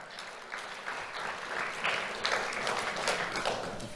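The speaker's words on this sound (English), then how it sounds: "Let's have a round of applause for Leah Diaz Echeverria." An audience at an awards ceremony claps steadily for an honoree, a moderate, even wash of applause from a mid-sized crowd that swells slightly toward the middle and holds without any voices over it.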